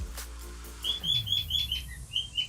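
Small birds chirp in a quick series of short, high tweets, repeated in an even rhythm over a low background hum, moderately loud, with no voices.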